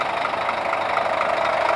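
Scania DC13 13-litre, 410 horsepower diesel engine in a Scania K410iB bus idles steadily with a dense, even rumble and fine knocking texture, loud and close, with no talk.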